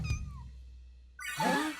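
A cat in an anime episode of My Hero Academia Vigilantes gives a short, close meow: a thin, drawn-out tonal cry followed by a louder, rising and falling call, with no talking.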